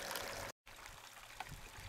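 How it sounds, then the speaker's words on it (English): Recirculating water rushing steadily through a sluice box during gold sample testing at a mine, a constant close wash and trickle with a very brief dropout near the start. "We've got the sluice going, we've got the recirculating water going."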